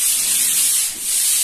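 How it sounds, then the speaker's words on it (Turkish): Abrasive rubbing of sanding on plaster walls during an office renovation, a loud continuous hiss that dips briefly before resuming, close by. "Bu taraftan da zımpara başladı."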